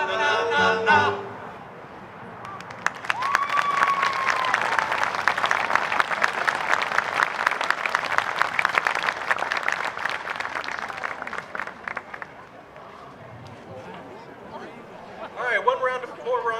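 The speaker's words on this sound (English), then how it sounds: "All right, more round of applause for the Amen." Audience applause at an outdoor city band concert swells after a brief spoken word, a dense wash of clapping lasting about ten seconds before tapering off, with a voice speaking briefly again at the end.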